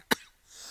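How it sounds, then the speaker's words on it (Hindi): A single short, harsh cough like a smoker's cough, close and isolated, followed by faint breathy noise. "बीड़ी पीता नहीं, सिगरेट पीता नहीं, फिर भी खांसी खतरनाक है।"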